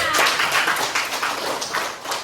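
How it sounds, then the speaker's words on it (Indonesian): Classroom audience clapping for a student, a dense patter of many hands close by that carries steadily for a couple of seconds with light voices mixed in. "tepuk tangan untuk Gila"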